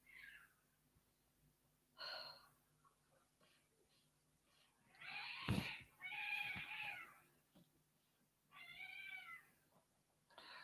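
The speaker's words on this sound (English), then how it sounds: "Cat's fighting away." Domestic cats fighting nearby, with several loud yowling, hissing bursts and drawn-out caterwauls spaced apart, separated by quieter pauses with faint breathy noise.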